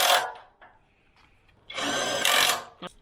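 A torque wrench tightens the rear differential mounting bolts on a vehicle ladder frame to 175 Nm. A short ratcheting burst is followed by a pause, then a longer, loud, close clicking rattle.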